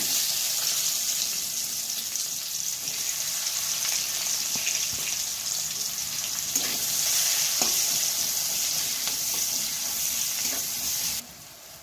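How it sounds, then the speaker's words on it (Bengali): Chopped onion frying in hot oil for a spicy village-style pui shak dish, with a continuous close sizzle and light stirring that cuts off abruptly near the end. "প্রথমেই দিয়ে দিচ্ছি তেলের মধ্যে পেঁয়াজ কুচি"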